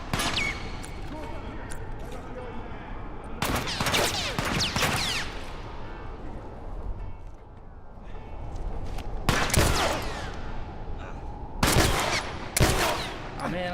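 Gunfire in The Last of Us Left Behind video game, with bursts of rapid shots in several clusters over a continuous background of game ambience and action noise, loud and close.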